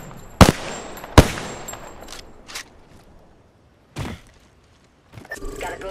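Sharp SMG shots in an Apex Legends match, a few loud isolated cracks spaced apart rather than a sustained burst, with quieter mechanical clicks and game voice lines between them.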